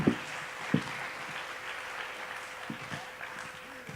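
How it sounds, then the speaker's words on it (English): An audience applauds a speaker with continuous, fairly distant clapping, and a few louder individual claps and thumps stand out near the start. "A big round of applause for Byron"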